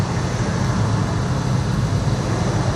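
A 1966 classic car cruising past at a car show, a loud, steady low engine rumble with road noise filling the whole moment, no voices over it.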